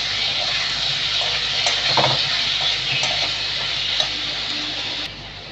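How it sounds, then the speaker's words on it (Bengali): Soybean curry ingredients with chili powder and salt are stirred together in a hot pan, giving a steady low sizzle broken by scraping and clinking strokes of a spoon, moderately close and without talk. "এবার সব এগুলো একসাথে মিশিয়ে নেব।"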